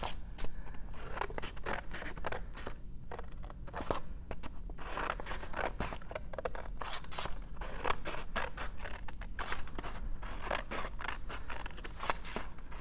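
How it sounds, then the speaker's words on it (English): Scissors snipping paper strips for a kids' Thanksgiving craft placemat, rapid repeated close cuts with crisp scraping, continuous and alone without talk. "cut about every inch and leave just a little bit of room"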